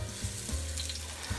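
Pork tenderloin sears in a hot pan, a soft continuous sizzle with a few faint low knocks, brief and moderately quiet.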